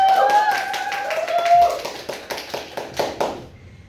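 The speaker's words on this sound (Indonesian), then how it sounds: "Tepuk tangan." A small class group claps hands in a short burst of separate, close claps that thin out and stop, while a voice talks over the start.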